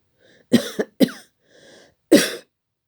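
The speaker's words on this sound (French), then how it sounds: "J'ai des allergies en plus, ça me fait tousser." Several sharp coughs close by from an allergy sufferer woken at night, two quick ones then another, a pause with faint breathing, and a final harsh cough.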